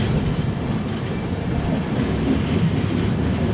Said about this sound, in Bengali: দেখুন ট্রেনটা বেঁকছে আমাদের একদম পাহাড়ের পাশ দিয়ে, টানেলের মধ্যে দিয়ে দেখুন চলে যাচ্ছি আমরা